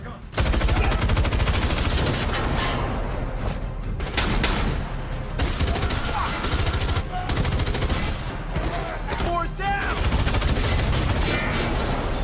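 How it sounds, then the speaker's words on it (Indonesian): Gunfire in a film shootout between a lone gunman and bandits: loud, sustained bursts of automatic fire and single shots crackle almost continuously, with thuds and impacts mixed in and brief gaps between volleys. "Di sana Hill dan para bandit tidak ada hentinya baku tembak."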